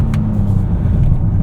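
A 2025 Honda Odyssey minivan's V6 engine rumbles and revs briefly, close and fairly loud with no voices.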